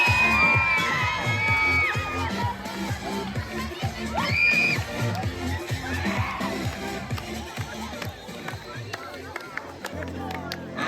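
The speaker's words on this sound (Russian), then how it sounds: "Ребята, мне нужны максимальные аплодисменты" An audience of children at a summer camp friendship campfire claps and cheers loudly, with whoops and shouts over continuous applause, while a voice speaks over the crowd.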